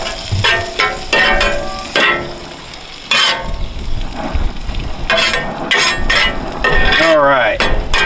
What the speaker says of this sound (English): Now we're gonna mix these onions in.